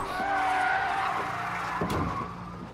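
Car tires screech in a sustained skid as the vehicle swerves to avoid a dog and strikes a pedestrian, loud and close, with a brief thump near the end.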